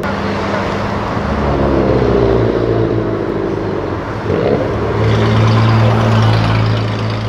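An old car's engine rumbles steadily close by, swelling and shifting as it drives past, with a second engine joining in toward the end.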